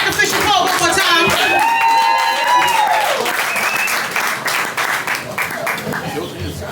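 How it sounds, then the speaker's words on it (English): Poetry slam audience clapping and applauding, dense and fairly loud throughout with whoops and voices mixed in, tapering slightly toward the end. "Clap it up for your sacrificial pole one more time."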